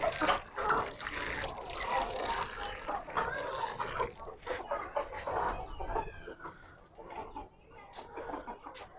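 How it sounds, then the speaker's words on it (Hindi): Water poured and trickling into a container for Australorp chicks at a home farm, a continuous splashing wash with chicks chirping and clucking around it, near and moderately loud. "ये पानी डाल दिया इसमें।"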